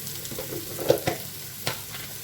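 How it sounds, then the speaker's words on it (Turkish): Onions sautéing in a pan for an oven-baked minced-meat eggplant kebab, a soft continuous sizzle close by, broken by a few sharp spatula stirs and clicks, with no talking. "sotelendi soğanlarım"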